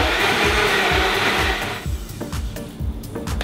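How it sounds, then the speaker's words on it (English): A blender whirs loudly and steadily while blending a protein shake with banana, the motor then dropping to a lower, bumping churn as the thick mixture turns over, alone without talk. "It doesn't really matter, whatever you have, and give it a good blend."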